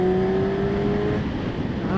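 A 2016 Yamaha R6 motorcycle engine screams loud and close as it accelerates, its tone climbing steadily before a brief dip at a gear change and a renewed rising pull.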